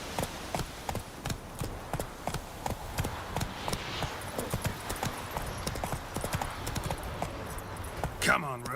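Roach the horse trots in The Witcher game, its hooves clip-clopping in a steady rhythm close by over continuous background sound, with a brief whinny near the end.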